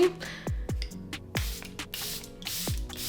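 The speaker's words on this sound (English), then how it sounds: "set the face with the Airbrush Flawless Setting Spray by Charlotte Tilbury" Several quick hissing bursts of Charlotte Tilbury Airbrush Flawless Setting Spray, about four or five short puffs spaced unevenly, close to the listener, with a few low thumps between them.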